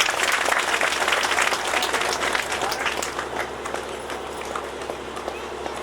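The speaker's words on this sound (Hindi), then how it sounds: "तालियां जोर से दो।" Loud, vigorous applause from an audience at a Hindu religious ceremony, a thick wash of many hands clapping that slowly tapers and loses intensity over several seconds.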